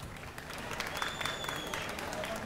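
Dense, steady applause from an audience at a regional gala concert, welcoming officials onstage, filling the moment at an even level with faint voices mixed in.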